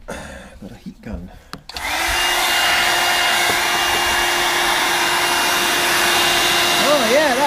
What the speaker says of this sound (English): Got a heat gun.